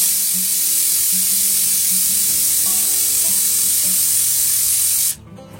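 A pressure cooker cooking gravy vents steam through its whistle: a loud, steady, close hiss that runs unbroken for several seconds, then cuts off abruptly, leaving quiet room sound.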